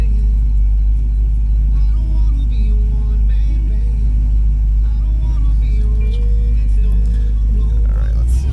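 A 1969 Chevrolet Camaro restomod on the road, heard from inside as a steady, loud low engine and road rumble that runs throughout, with people talking over it.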